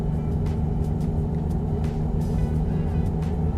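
A heavy truck with a 750 engine in a driving simulator game gives off a steady, droning engine rumble with a low harmonic hum that stays loud and even as it picks up speed.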